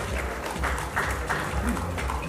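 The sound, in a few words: audience applause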